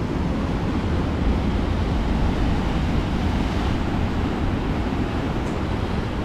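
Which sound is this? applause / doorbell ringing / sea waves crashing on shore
sea waves crashing on shore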